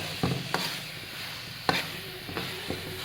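A turnip and egg mixture is stirred in a pan, with a few sharp scraping knocks of a spoon against the pan over a soft sizzle and no voices.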